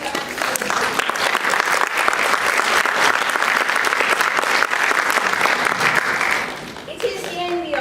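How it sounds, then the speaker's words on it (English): Staff at a briefing break into a full round of applause, steady and dense for about six seconds before fading, with voices and a brief sound at the end. "That requires a fantastic round of applause"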